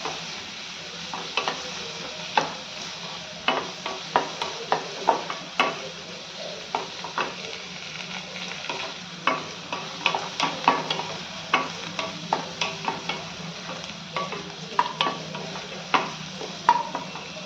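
Curry leaves, chopped green chillies and onion frying in a pan for vermicelli upma, with a steady sizzle under repeated sharp scrapes and clinks of a spoon stirring against the pan, close and fairly loud.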